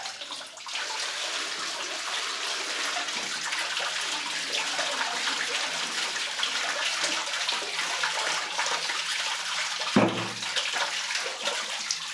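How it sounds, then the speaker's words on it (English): A toilet given a forceful power flush, a steady rushing gush of water lasting many seconds, with a brief knock partway through. "So I call this the power flush."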